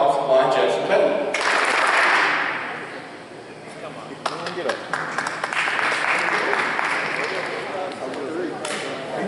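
An audience at a high school football awards ceremony claps in short bursts of scattered, irregular hand claps, moderately near, with a presenter's voice and crowd murmur running underneath.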